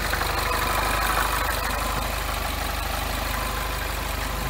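The engine of a silver FJCW coupe idles steadily after start-up, a close, loud and even rumble with a fast regular pulse and no voices.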